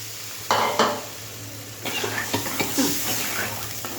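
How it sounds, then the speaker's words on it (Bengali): Water goes into a hot cooking pan with potatoes, bursting into a hiss, then a series of quick sizzles and clattering stirs against the pan, close by and without speech. "এবার আমি জলটা ঢেলে দিলাম।"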